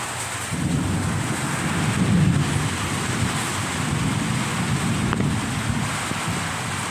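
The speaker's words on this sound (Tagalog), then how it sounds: "Biglang bumuhos yung ulan." Steady heavy rain pours down with a dense hiss, mixed with gusty wind buffeting the microphone and a low rumble underneath.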